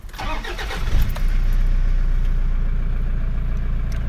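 A car engine cranks briefly with a rough churning for about a second, then fires and settles into a steady, loud idle close by, with no talking.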